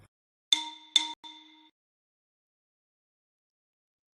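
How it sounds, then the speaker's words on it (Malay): A xylophone bar struck three times in quick succession, each bright ringing tone decaying briefly, the last note sustaining a little longer before silence. "Bar xilofon bergetar apabila seseorang mengetuknya."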